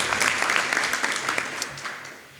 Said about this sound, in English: Can we get another round of applause to Ms. Taylor?